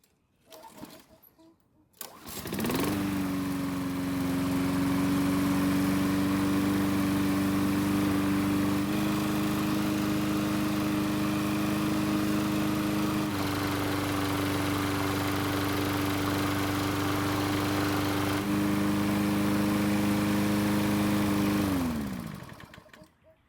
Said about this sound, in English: I want to just start the engine and try using the self-propel